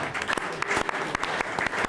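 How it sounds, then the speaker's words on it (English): A room applauds Terrebonne Parish representatives at a bayou sports gathering, a close, loud burst of clapping with distinct sharp hand strikes cutting through the steady crowd noise for about two seconds. "Y'all give them a big old round of applause."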